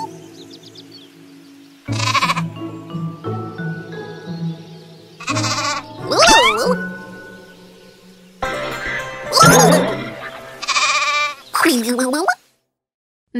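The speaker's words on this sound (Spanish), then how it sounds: "Ovejas, sheep." Sheep on a farm bleat repeatedly in loud, wavering calls, several overlapping bursts over a steady low outdoor hum.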